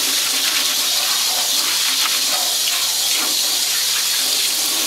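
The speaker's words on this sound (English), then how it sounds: "And I wash that off, scrub it with cold water." Cold tap water running continuously in a sink to rinse the bamboo liner of a Norwalk juicer, a loud, steady hiss and splash close by with no talking.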